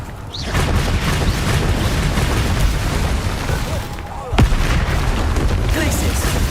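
Confringo explosive spell blasts booming in Hogwarts Legacy, a dense, loud rumbling barrage with a sharper burst near the end, layered over continuous game noise.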